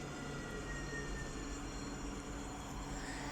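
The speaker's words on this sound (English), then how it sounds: "another tram is pulling in bound for Phoenix Park" An NET tram pulling in at Basford stop, a steady low rumble with faint whining tones, heard from a distance at low level with no talk.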